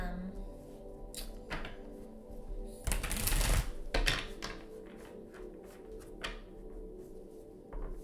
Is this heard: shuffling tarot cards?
yes